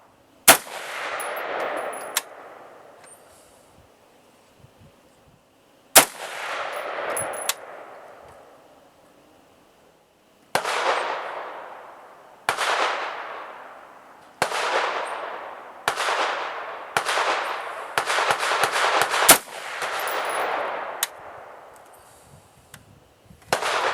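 Rifle shots fired at a range with a Leatherwood M1000 ART scope fitted ring out as loud single cracks, each followed by a long ringing decay; shots come spaced apart, then in a quicker cluster later.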